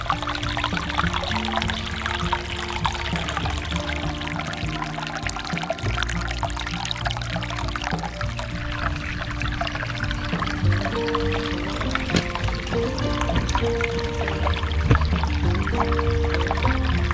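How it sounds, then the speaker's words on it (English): Water trickling down rocks along the Red Trail of the White River Valley trail system near Branson, Missouri, a continuous close splashing and dribbling with no voices. "it just continues to trickle down all the way to where we were a while ago whenever we passed over the water"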